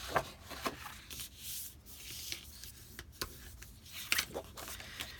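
Folded paper crease being burnished for a mini folio, soft close rubbing strokes in short repeated bursts, quiet and irregular, with no voices.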